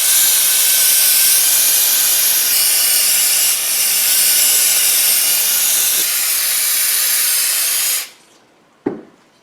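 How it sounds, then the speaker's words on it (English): Brake cleaner sprays from an aerosol can onto a brake caliper during a brake job, a loud continuous hiss for about eight seconds that cuts off abruptly, followed by a brief clunk. "I'm just going to use some brake cleaner and just see how much I can get this cleaned out"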